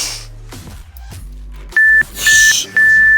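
Sharp electronic beeps from a workout timer sound in a short series of three, each a loud steady tone, following a stretch of low, muffled background sound.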